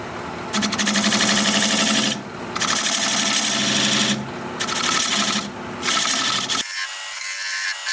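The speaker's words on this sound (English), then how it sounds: "Now I'm just going to use this diamond point tool to square up the sides of my tenon." Wood lathe turning a small wood candle holder, a diamond point tool squaring the sides of a tenon: loud, close scraping and rasping in three long bursts with brief pauses, ending in a quieter whir as the cutting stops.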